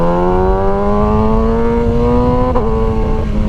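A 2023 Kawasaki ZX6R engine hums loud and close while riding, a steady droning tone that climbs slowly in pitch, with a brief wobble near the end as a gear change comes through.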